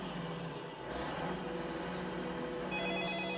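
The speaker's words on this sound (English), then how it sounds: "3 hours later, Maggie received an alarming phone call" A telephone rings indoors, a bell-like ring repeating over a low steady background hum, with no talk over it.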